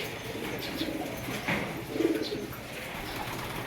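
Racing pigeons, including a blue bar hen, coo softly at a home loft against a steady outdoor background, with a few low murmuring calls and no voices.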